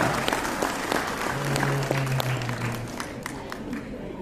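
An audience at a seminar applauds, a steady crowd of clapping hands with scattered sharper claps, a faint tone and murmur beneath it.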